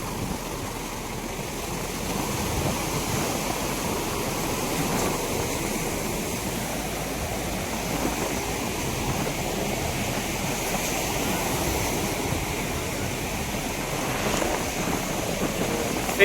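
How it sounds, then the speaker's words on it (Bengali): Big sea waves rolling and washing ashore by a boat landing, a continuous rumbling surge with swelling crests and wind noise, heard close with no talking. "কি ঢেউটা একটু বেশি বেশি করছে।"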